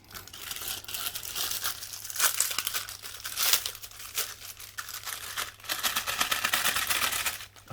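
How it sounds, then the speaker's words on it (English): Plastic packaging bag around a motorcycle clutch gator being torn open by hand, close crinkling and ripping in several uneven bursts with short pauses between. "Oh, you see, I just ripped the bags"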